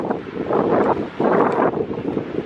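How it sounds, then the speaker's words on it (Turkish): Wind on a seaside beach in England buffets the microphone in two strong, roaring gusts separated by a brief lull, loud and close with no other clear sounds. "Hava keşke daha güzel olsa. Biraz esiyor."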